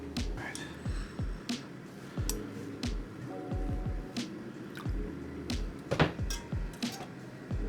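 Rehydrated shiitake mushrooms are lifted from their soaking liquid, giving soft wet squishes and a run of irregular drips and splashes, close and fairly quiet, with no talk.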